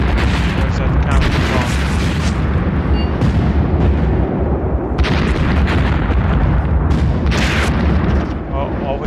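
Artillery fire falling on Valentine tanks in the video game Tank Warfare, a continuous loud rumble of booms and blasts with someone talking over it.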